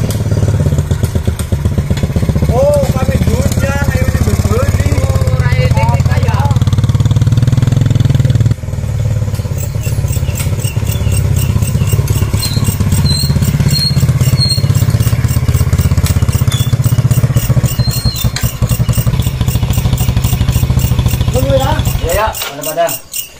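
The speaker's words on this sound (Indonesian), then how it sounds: "ada suara motor" A motorcycle engine runs steadily throughout, loud and close, with clattering and thumps around it while people talk over the engine noise.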